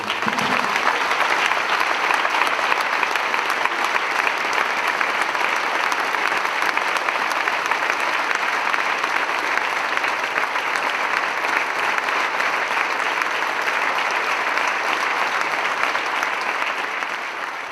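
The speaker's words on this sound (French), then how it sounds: "on va le faire une minute d'applaudissements chaleureux" A hall full of people at a festive evening event applauds warmly and steadily, a dense, loud wash of clapping that holds for the whole stretch without letting up.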